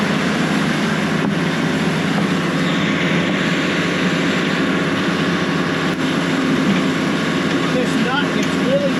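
A farm air compressor, used on a manure-pumping setup, runs steadily throughout with a loud, constant low engine-like drone and hum, with a person talking over it.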